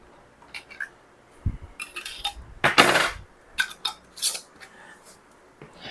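A glass canning jar filled with peaches is set back down into a pot of hot water, giving a low knock followed by a cluster of clinks and rattles of glass against metal, close and fairly loud, with no talk.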